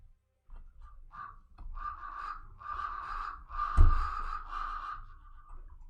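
Crow-like bird caws play as a sound effect during a tabletop Dungeons & Dragons session, a rapid run of harsh rasping calls repeating over several seconds with a thump midway, clear and fairly loud.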